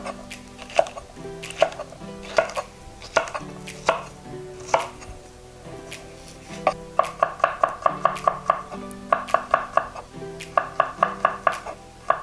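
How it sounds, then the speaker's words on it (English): Garlic and ginger are roughly chopped with a knife on a cutting board: sharp, evenly spaced thuds, slower at first, then quickening into rapid bursts of repeated strikes, close and clear. "Just roughly chop the garlic and ginger"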